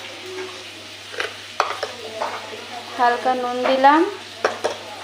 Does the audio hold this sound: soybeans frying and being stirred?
yes